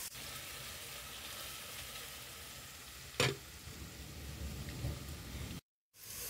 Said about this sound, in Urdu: پیاز کو ہم تب تک فرائی کریں گے جب تک یہ گلابی سا کلر نہ آ جائے